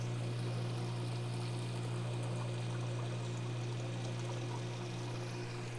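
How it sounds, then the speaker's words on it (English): Water flows steadily into a model culvert pipe in a small drainage test setup, a continuous pouring and trickling wash with a steady low hum beneath it, even and unbroken throughout. "We've got about the same amount of water coming in."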